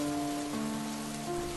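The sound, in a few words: rain falling in a cartoon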